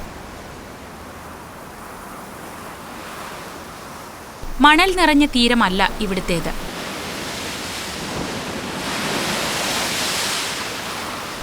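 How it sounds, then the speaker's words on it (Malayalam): Sea waves crash against the rocky shore at Bandstand, Mumbai, a steady broadband roar of surf that swells louder toward the end, with a voice briefly speaking over it in the middle. "പാറക്കല്ലുകളിൽ പതിച്ച് കടൽ തിരകൾ തല തല്ലി ചിതറുന്നു."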